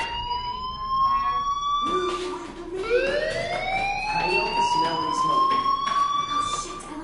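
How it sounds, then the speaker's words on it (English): A school fire alarm in a video game wails in rising and falling electronic siren sweeps, loud and continuous, with a short break before it resumes. "Hey, do you hear that fire alarm? That means you should be outside."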